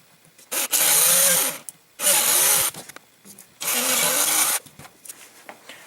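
A power drill bores holes through a homemade Cessna switch panel, sounding in three loud sustained bursts of about a second each with short quiet gaps between them.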